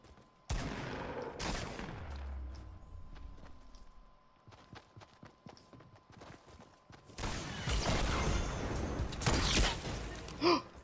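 Sharp gunshot cracks from a Fortnite match, a couple of loud reports early on and a denser burst of gunfire near the end, with scattered smaller impacts and game noise between them.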